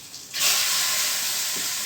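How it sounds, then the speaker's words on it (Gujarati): A sudden loud hiss bursts out and holds steady as garlic hits hot oil tempered with mustard seeds and asafoetida, a close, continuous sizzle without speech. "હવે આ લસણ છે ને ખાસ વઘારમાં મૂકું છું"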